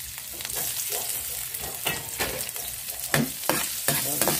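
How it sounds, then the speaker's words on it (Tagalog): Ginger sizzles and crackles in a hot pan as it toasts, with repeated stirring scrapes up close. "para medyo tostahin nyo yung luya para lumasa talaga yung luya"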